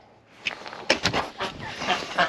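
A duck on a porch quacks in a quick series of raspy honking calls, close and fairly loud, clustered in bursts with a few short pauses between them.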